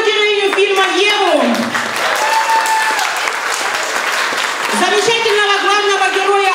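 Wedding guests at a 2006 reception break into steady, loud applause, while an amplified host speaks over and around the clapping.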